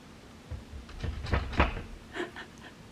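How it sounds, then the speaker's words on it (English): A dachshund scratching at a door indoors, a run of soft scraping and tapping bursts that build in the middle and fade off, fairly close and without talk. "He's going to scratch at the door."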